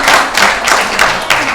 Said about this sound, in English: Can we give a small applause for her?